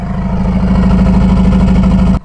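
A Subaru WRX with a newly fitted downpipe idles close by, a loud, steady low engine rumble with an even throbbing pulse that runs unbroken and cuts off abruptly at the end.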